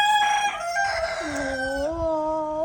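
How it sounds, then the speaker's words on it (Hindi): Free-roaming desi chickens in a rural farmyard: a rooster crows loudly and close with a long drawn-out call while hens cluck faintly in the background. "यहाँ पर मुर्गियाँ देखें जुड़ गई हैं दोस्तों"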